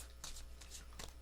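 Tarot cards being shuffled by hand, giving three soft, brief papery riffles spaced across a quiet moment, faint and close with no voices.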